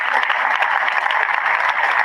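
A dense wash of audience applause, steady and fairly loud for a couple of seconds with no breaks.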